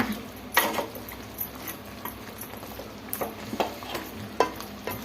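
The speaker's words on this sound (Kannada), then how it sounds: "ಹಸಿ ಸ್ಮೆಲ್ ಹೋಗೋವರೆಗೂ ಒಂದು 3 ನಿಮಿಷ ಚೆನ್ನಾಗಿ ಫ್ರೈ ಮಾಡ್ಕೊಳ್ಳೋಣ" Ground spice paste for spicy chicken pepper fry frying in a pan, a steady low sizzle broken by frequent scraping stir strokes and small clicks, close and moderately loud with no talking.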